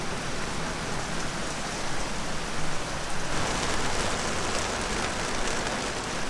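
Rain falling on a boat moored outside, a steady wash of dense drops pattering on the deck and surfaces, close and even with a slight swell in intensity midway, no voices.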